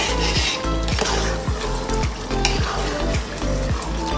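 Chicken biryani masala being stirred in a pot, rhythmic scraping strokes of a spoon repeating about twice a second over a steady sizzle, close and fairly loud.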